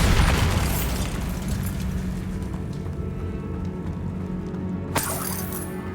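The Bombarda blast spell in the Hogwarts Legacy video game, a loud burst at the start with a shattering, decaying rumble, then a second sharp crack near the end, no talk.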